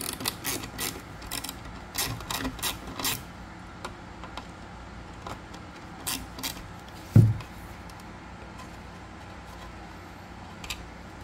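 Small T10 Torx bit ratchet tool backing screws out of a carbon fiber side mirror on a 2019 BMW 550i, with quick bursts of close ratcheting clicks, then pauses and a single sharp knock.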